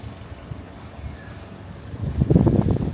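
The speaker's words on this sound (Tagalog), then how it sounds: "Sobrang mahangin." Strong gusty wind buffets the microphone at an outdoor rooftop pool area, a steady low rumble building into louder, roaring gusts near the end, with no talking.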